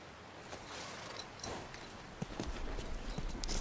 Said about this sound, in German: Ihr habt hier Pferde. Sogar ganz schön viele.